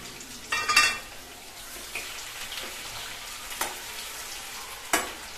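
Onions drop into hot oil already holding whole red chillies, bay leaves, cinnamon and cloves, giving a close, steady sizzle with a louder burst at the start and a few soft clatters, with no talking.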